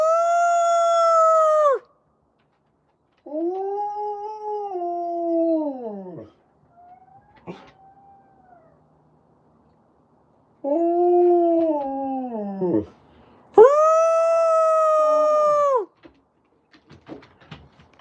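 Long, wavering howls rise and fall at a wolf center, one person's voice howling among the dogs and wolves, with several loud drawn-out calls broken by quiet gaps and a few short yips.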